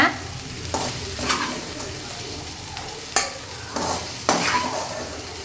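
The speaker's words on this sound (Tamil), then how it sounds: "சேர்த்து பாதி வெண்டைக்காய் வேகிற அளவுக்கு நல்லா வதக்கிக்கோங்க." Okra sautéing in a pan, a steady sizzle broken by several scraping stirs of a spoon against the metal, close and moderately loud with no voices.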